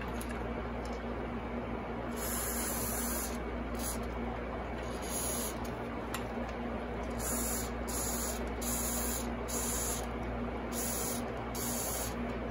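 Bursts of hissing contact cleaner spray from an aerosol can onto the switches of a vintage Zenith Trans-Oceanic H500 radio, repeated in short pulses over a steady background hiss, close and fairly loud.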